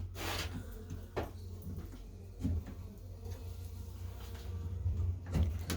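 Honeybees from a captured swarm buzzing around an opened hive during an inspection, a faint steady hum with low rumbling and occasional soft knocks of handling nearby.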